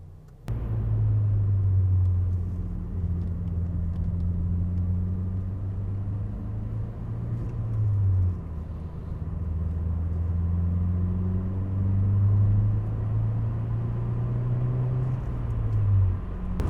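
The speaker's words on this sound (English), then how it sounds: "now I'm going for a quick test drive to check if everything is okay" An Alfa Romeo 159 TBi drives on a quick test drive after intake pipe heat wrapping, a steady low engine rumble heard from inside with gentle rises and falls in revs.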